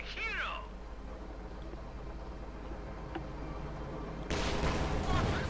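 A Panther tank's gun strike in Company of Heroes 2 lands as a sudden loud blast near the end, following a low, quiet stretch of distant battle ambience.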